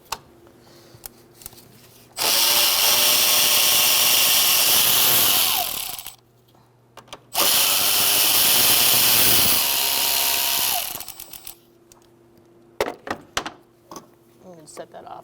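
An 8mm socket on a power ratchet removes the IAC valve on a 2000-2007 Ford Taurus 3.0L V6. Two sustained close whirring runs of several seconds each wind down at the end, separated by quiet clicks and knocks.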